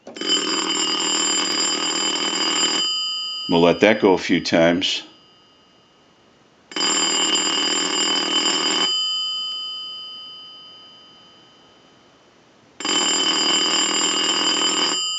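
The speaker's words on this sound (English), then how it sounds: "We're going to ring the unit and then we'll give you some dial tone" A repaired rotary and touch-tone telephone on the test bench rings in three loud, sustained bell bursts separated by pauses, with someone talking briefly between the first two rings.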